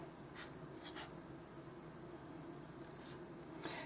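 Material for a dollhouse miniature corner roombox is cut just past a fold, giving a few faint, scratchy cutting strokes over a steady quiet background hiss.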